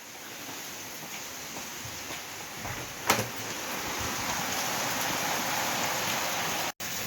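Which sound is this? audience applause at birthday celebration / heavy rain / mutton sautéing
heavy rain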